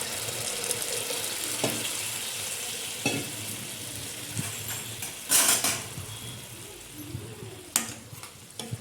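Boiled toor dal goes into a hot pan of tempered spices and coriander for varan, sizzling as a spoon scrapes and stirs against the metal, with a few sharper clinks of utensil on pan.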